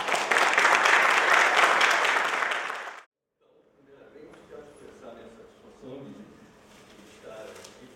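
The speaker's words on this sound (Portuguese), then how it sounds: "Uma salva de palmas." Loud, dense audience applause fills a social sciences lecture hall for about three seconds, then stops abruptly. Quieter speech follows.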